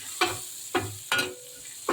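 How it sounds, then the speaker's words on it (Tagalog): Salted fish frying in a pan while a utensil stirs it: four separate scraping strokes, about half a second apart, over a soft, steady sizzle, close and fairly quiet, with no voices. "I just fried salted fish"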